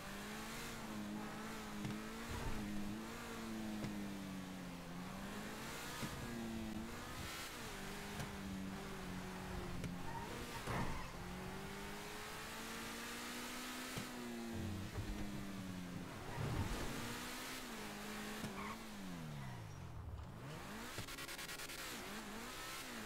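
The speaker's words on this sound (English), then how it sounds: "I love that sound that car makes right now." A Voodoo lowrider car in a video game revs its engine in rising and falling pulls, a steady mid-pitched motor drone that swells and dips throughout, loud and close with no talk over it.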